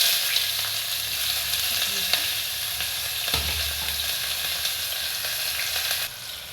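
Chopped onion frying in hot oil in a pan for vegetable rice, with a continuous close sizzle, a couple of soft stirring knocks, and a brief louder burst as more goes in, with no talk.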